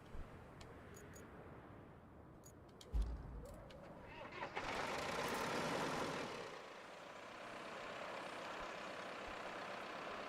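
A truck engine idles in the video game Roadcraft as a low, steady rumble, rising to a louder hissing surge midway before settling back to a quieter idle.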